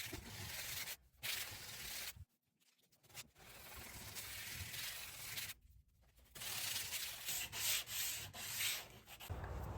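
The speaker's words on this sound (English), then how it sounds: "So you pick the one that works, you wrap your sandpaper around it and just go to town." Sandpaper wrapped around a hand sanding block rubs back and forth across wood, a steady, close scratchy hiss broken by a few brief pauses between strokes.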